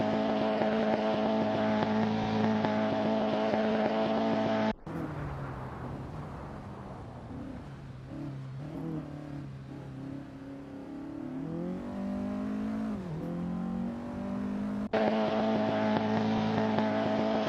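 In a racing simulation, 1950s Formula 1 cars circle the Bahrain circuit, their engines snarling and revving, rising and falling as they pass, with abrupt cuts between shots.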